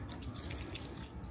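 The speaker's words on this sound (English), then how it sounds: "So hopefully one of these keys" A bunch of keys jangles up close at a door, a brief bright metallic clinking with several quick rattles.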